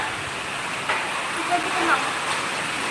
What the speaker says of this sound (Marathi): खूप पाऊस चालू आहे इकडे वारा पाऊस